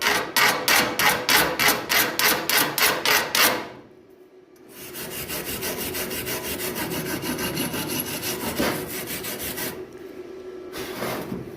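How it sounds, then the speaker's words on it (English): Burned-in slag being worked off a MIG weld: a run of about a dozen quick, rhythmic scraping strokes, a short pause, then a longer continuous gritty rasp, close and fairly loud. "Just trying to get the slag off of it."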